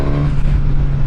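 A Suzuki GSX-S1000 motorcycle engine drones loudly and close up, a brief, steady, strong low tone with no talking.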